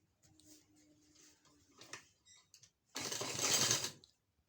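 A sewing machine stitches a seam on a garment sleeve: faint scattered mechanical clicks first, then a short, louder burst of stitching lasting about a second.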